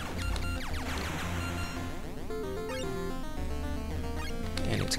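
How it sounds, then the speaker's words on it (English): Seicross, a NES Famicom game, plays chiptune music while a weapon fires in quick, beeping bursts that sound like Morse code, with busy electronic tones layered throughout. "Or no, it's the sound of my weapon. It sounds like Morse code."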